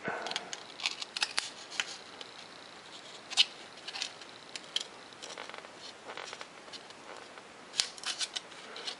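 Paper plans for a micro bat-wing RC jet being cut and scored, with soft intermittent snips and scrapes of a blade over a faint steady background, a few sharper clicks standing out.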